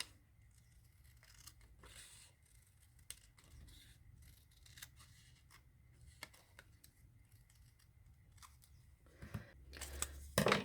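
Scissors snip through paper for a collage in an altered book, a few quiet, scattered cuts in a near-silent room, with louder crinkling and handling of paper near the end.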